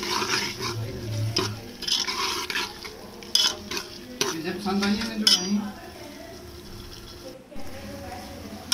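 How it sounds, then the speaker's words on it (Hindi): Pumpkin being sautéed in a pan with masala hisses under repeated spoon scrapes and metallic clinks against the pan, close and busy, with a brief voice in the background. "मैंने इसके कद्दू डाल दिया और कद्दू की बुनाई करें अच्छे से"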